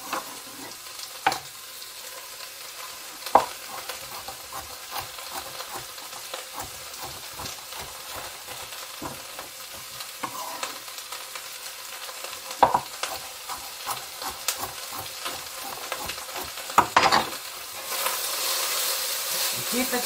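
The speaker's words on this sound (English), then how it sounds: "keep it stirred up because you don't want it to burn" Olive oil sizzles steadily as chopped vegetables fry for bok choy soup, with a spoon scraping and stirring through the pan in irregular strokes across a long stretch, close and moderately loud.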